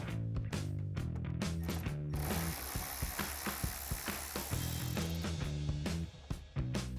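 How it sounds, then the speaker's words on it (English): A ratchet with a 7mm socket turns a screw on the bumper of a 2024-2026 Mustang, its close, rhythmic clicks repeating in quick runs with a few knocks between. "So now I'm gonna take a 7mm socket for the screw."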